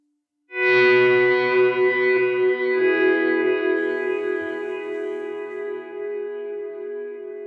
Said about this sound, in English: Let's say I turn that delay up, turn the feedback slightly higher. Reverb, I turn this mix way high.